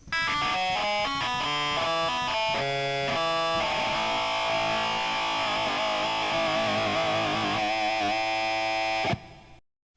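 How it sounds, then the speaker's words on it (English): Electric guitar tone, made from a recorded sound fed through a distortion plugin and amp simulator, plays a quick run of buzzy, harmonically rich notes, then holds a long sustained chord that cuts off abruptly. "Let's replace the bass amp with a distortion plugin and an amp simulator."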